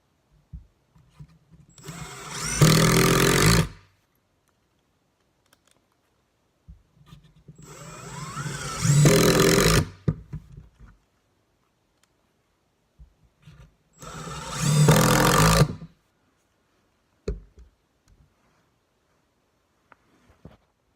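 A Milwaukee brushed cordless drill runs a speed test, whirring up to a loud, close, high-pitched spin in three separate bursts of about two to three seconds each, with quiet gaps and small clicks between them.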